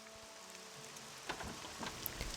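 Rain falling in the video game Morrowind, a quiet steady hiss around a town, with a few brief louder drop and splash bursts toward the end.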